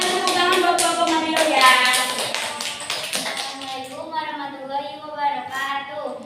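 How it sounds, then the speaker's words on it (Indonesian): A class of students claps for a student group, with sharp hand claps in the first seconds mixed with loud children's voices chanting together, continuing as group voices afterward. "Kita akan tepuk tangan buat kelompok Nabi Ilyas."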